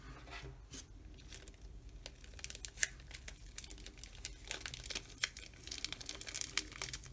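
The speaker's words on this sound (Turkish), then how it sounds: "Kablonun halısının içinden geçtiği en son noktadan tekrardan bir bantlama yapacağım." Adhesive tape being wrapped tightly around an electrical cable where it passes through a rope-covered lamp fixture, giving close, quiet crinkling and tearing sounds in irregular bursts with no talking.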